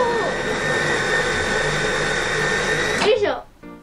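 An electric food chopper whirs loudly and steadily as it minces half an onion, then winds down with a rattle near the end.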